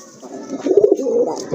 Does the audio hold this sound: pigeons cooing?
yes